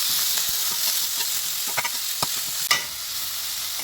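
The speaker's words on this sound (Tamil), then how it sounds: "எல்லாத்தையும் சேர்த்து நல்லா பச்சை வாசனை போகிற வரைக்கும் எண்ணெயிலே வதக்கிக்கலாம்" Grated carrot and beetroot sautéing in oil for ragi bun dosa, a continuous hiss with spatula scrapes and a sharper knock near the end.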